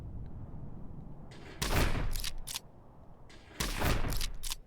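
Two bursts of gunfire in the sci-fi strategy game Heart of the Machine, each a loud broadband volley lasting about a second with crackling tails, set against a low background hum.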